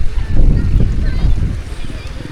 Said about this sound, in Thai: มื้อนี้สายลมพัดเย็นโจ้ยมาจากหมู่บ้าน